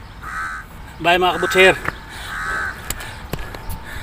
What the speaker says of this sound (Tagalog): Ingay man itong uwak na yun eh.